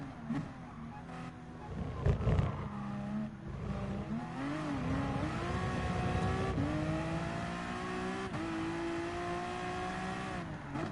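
A race car laps a track in the GT Sport endurance race, its engine droning and revving through rising and falling gear changes, loud and continuous with a brief bump partway through.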